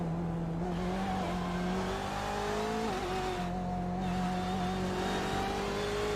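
A GT1 GTE race car lapping Barber Motorsport Park, its engine droning loudly at high revs through curves, pitch rising and dipping with brief shifts and lifts, heard continuously and close.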